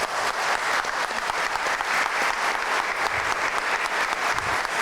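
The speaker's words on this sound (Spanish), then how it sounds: "Recibámosles con un fuerte aplauso" Audience applause welcomes a speaker at an international forum on sustainable development, a sustained, even wash of clapping from a sizeable crowd with no talk over it.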